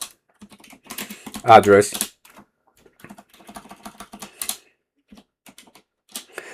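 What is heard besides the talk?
typing a command on a computer keyboard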